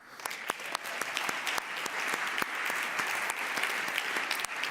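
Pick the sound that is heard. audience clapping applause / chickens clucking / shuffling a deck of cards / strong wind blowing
audience clapping applause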